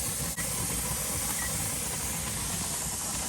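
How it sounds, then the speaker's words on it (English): Steady steam hissing from a pot of broth coming up to a simmer, a continuous, even, fairly loud hiss with a low rumble underneath, heard alone without talk. "wait for it to start a steady steam through here"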